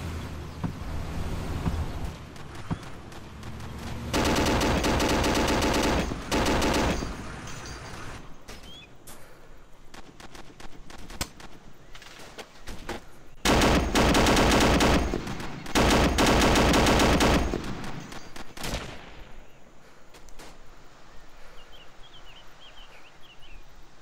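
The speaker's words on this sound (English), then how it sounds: "They sound like they're close though. Enemy fire!" Bursts of enemy machine-gun fire in ArmA 2 Operation Arrowhead, long loud sustained volleys separated by quieter stretches of ambient noise and scattered single shots, with no talking.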